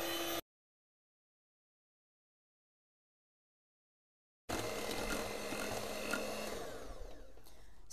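An electric hand mixer whips cream for a birthday sweet treats tray, a steady loud motor whir running continuously after a short burst and a long silent gap.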